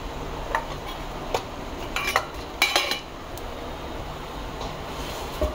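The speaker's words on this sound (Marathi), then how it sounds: "त्याला खालीवर पलटी मारून घ्यायचे, म्हणजे तीळ पण आपले व्यवस्थित भाजले जाते" Alu vadi pieces coated in sesame seeds are flipped in a pan with a metal spatula, giving sharp scattered clinks and scrapes over a faint background sizzle, with clusters of taps around the middle.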